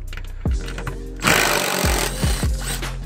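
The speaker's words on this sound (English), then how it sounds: "I'm gonna just start drilling away." A power drill whirs in short bursts, with one longer high-pitched run, mixed with clunks and thumps of handling nearby, while removing the rear seats of a 2013 Hyundai Sonata.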